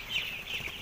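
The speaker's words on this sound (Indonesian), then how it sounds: "Ini ayamnya masih masa brooding." Five-day-old broiler chicks in a brooding pen chirp in a steady, continuous high-pitched chorus, moderately loud and very brief, no talk.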